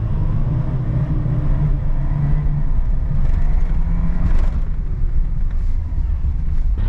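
A Peugeot 205 GL pulls away from a standing start, its engine rumbling loud and steady from close inside the car, with a rise in effort partway through and some wind noise over the microphone.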